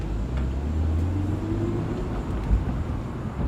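A rebuilt BMW E36 M3 on the road gives a steady, close, low engine and road rumble that holds evenly throughout, with a small bump midway.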